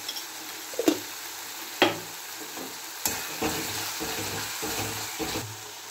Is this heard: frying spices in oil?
yes